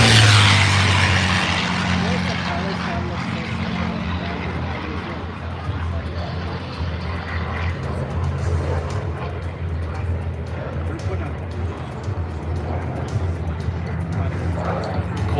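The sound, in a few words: P-51 Mustang aircraft engine flying past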